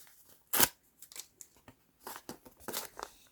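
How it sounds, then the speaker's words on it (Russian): Scissors snip open a paper surprise packet at close range, one sharp cut followed by several quicker snips and paper rustles in a quiet room. "давайте приступать открывать эти пакетики"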